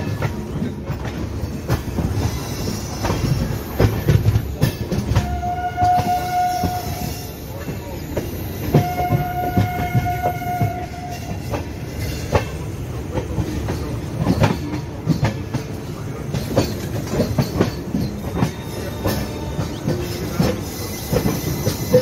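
A train rolls along the line toward Sealdah with rhythmic clickety-clack over rail joints, a constant heavy rumble and brief wheel squeals, heard up close from on board.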